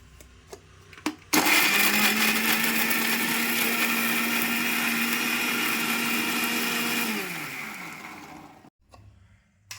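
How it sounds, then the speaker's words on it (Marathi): A mixer grinder pureeing tomatoes whirs loudly at high speed for about seven seconds, then winds down and stops, with faint clicks before and after. "मी मिक्सरला लावून घेणार आहे एकदम बारीक ना पेस्ट करून घेणार"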